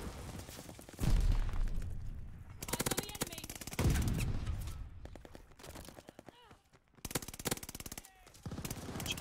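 MG42 machine gun bursts in Call of Duty Vanguard, fired inside a cave, loud repeated rapid volleys separated by brief pauses, with voices talking over the gameplay.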